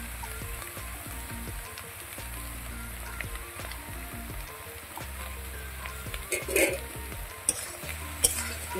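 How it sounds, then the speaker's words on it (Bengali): A spoon stirs fish and eggplant curry sizzling in a pan, steady frying crackle with scraping strokes and a few louder clacks near the end, close and alone without talk. "এখন নেড়ে চেড়ে ঢাকনা দিয়ে ঢেকে রেখে দেবো।"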